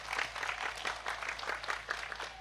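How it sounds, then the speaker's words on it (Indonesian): Audience clapping for Korean migrant workers at an Indonesian religious gathering, a steady crowd patter of moderate loudness lasting the whole moment with no voices on top. "Tepuk tangan untuk teman-teman kita Korea"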